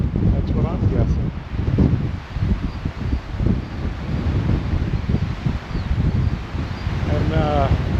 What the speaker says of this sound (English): it's got to be 30 mile an hour wind right now